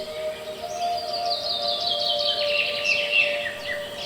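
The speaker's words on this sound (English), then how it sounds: "more and more birds were heard singing" Many birds sing together in a forest, overlapping chirps and warbling phrases forming a steady, moderately distant chorus with a constant faint hum beneath.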